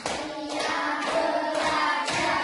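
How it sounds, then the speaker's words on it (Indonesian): A class gives a round of hand clapping, five regular, evenly spaced group claps ringing out close by with little else around them. "Tepuk tangan untuk kita semuanya"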